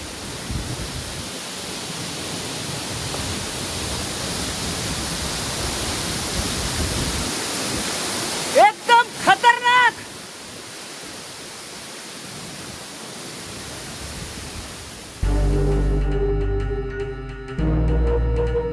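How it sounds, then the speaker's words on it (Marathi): Continuous broadband roar of Kanchan Waterfall in the Sahyadri hills, Junnar, fills most of the clip, loud and steady, briefly interrupted by a short burst of other sound near the end. "माझ्या पाठीमागे तुम्ही बघू शकता अप्रतिम असा धबधबा आहे"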